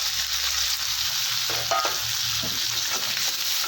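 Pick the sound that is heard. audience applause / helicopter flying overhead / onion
onion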